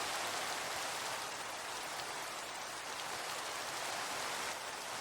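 Steady rain from the video game Minecraft hisses evenly and continuously as a dense, soft patter with no pauses or other sounds.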